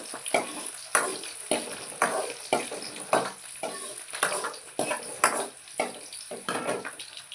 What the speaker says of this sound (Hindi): प्याज मेरी हो गई, अब डाल दी हमने टमाटर।